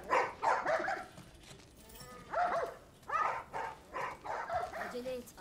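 Dogs in the video game The Last of Us Part I bark and yip in repeated bursts of several barks each, with short pauses between groups.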